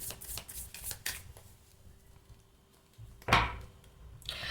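Oracle cards shuffled in a short riffling burst at the start and near the end, with a sharper card slap toward the close, close and fairly quiet with no talking.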